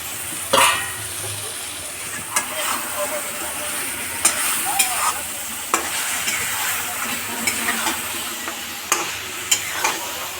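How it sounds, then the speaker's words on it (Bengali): Koi fish stirred and fried in a spice masala with tomato, a steady sizzle broken by sharp clicks and scrapes of the spoon against the pan every second or two, close and alone. "মাছটা দিয়ে নেড়েতে নিচ্ছি আমরা কিছুক্ষণ মাছটা মশলার সাথে কষিয়ে নিয়েছি"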